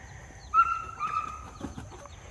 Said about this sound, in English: Alright, we got some of the chickens here.